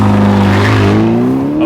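Engine of a 2015 Ferrari California T while driving, a loud close steady drone with clear harmonic tones gently rising in pitch as it pulls, heard alone without talk.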